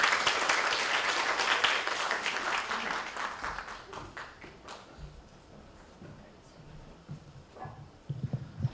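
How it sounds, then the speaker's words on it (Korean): An audience at a Korean records-day commemoration ceremony bursts into dense, sustained applause to welcome the judging chair of the 2018 Digital Heritage Awards, then tapers off into scattered claps and room noise. "큰 박수로 맞이해 주시기 바랍니다"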